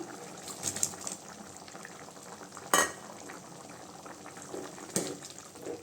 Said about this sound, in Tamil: பாருங்க குழம்பு நல்லா கொதிச்சிருச்சுங்க